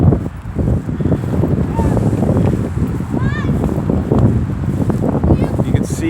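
Strong wind buffets the microphone in a continuous low roar, with gusty rumbling throughout and faint higher sounds mixed in.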